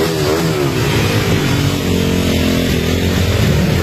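A four-stroke dirt bike engine running after a top-end rebuild, a loud, steady, close mechanical drone with a rough harmonic buzz that holds throughout.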